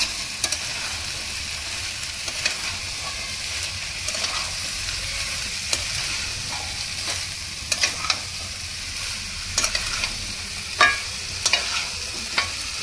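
Boiled chickpeas and potatoes are stirred with spices in an oiled pan, giving a continuous close sizzle broken by occasional spatula scrapes and taps, with a few sharper knocks toward the end.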